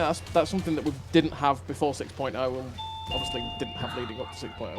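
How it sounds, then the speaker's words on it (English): A home doorbell chimes twice in sustained electronic tones, ringing clearly under a man's ongoing speech during a conversation. "that's my doorbell. Sorry, that's my doorbell again."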